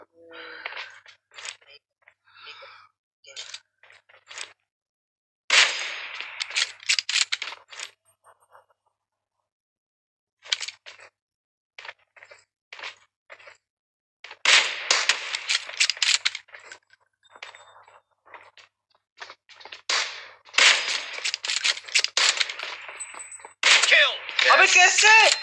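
Kar98 bolt-action rifle shots in a mobile shooter game's team deathmatch, sharp broadband cracks in bursts with mechanical bolt clicks between them, while players talk over the action.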